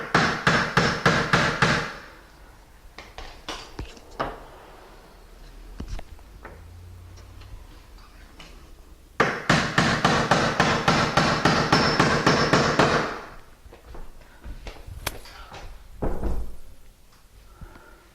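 Hammering 10-penny nails into the hinge side of a solid door jamb: quick runs of sharp, close blows in two long bursts, separated by quieter handling and a few scattered single knocks.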